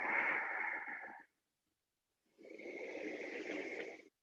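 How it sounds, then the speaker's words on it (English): Slow, audible ujjayi-style yoga breathing rasping in the back of the throat, one long breath, a pause of silence, then another, close and steady with no talk. "Making that breath you can hear in the back of your throat"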